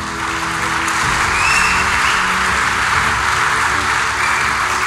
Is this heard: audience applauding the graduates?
yes